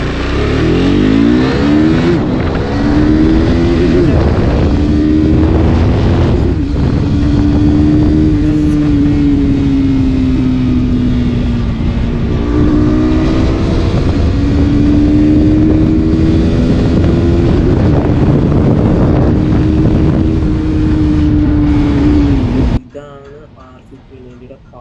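A KTM RC 390 motorcycle ridden on an open highway, its engine droning loudly and steadily with rising and falling revs and wind rush, close and continuous until it cuts off abruptly near the end.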